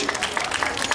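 Crowd applause and scattered clapping at a lively outdoor street show on Fisherman's Wharf and Pier 39 as a young performer scampers off stage, a steady wash of hands and cheers filling the whole moment.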